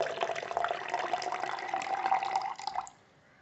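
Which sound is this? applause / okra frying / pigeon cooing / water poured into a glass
water poured into a glass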